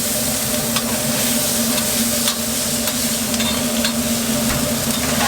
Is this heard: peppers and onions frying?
yes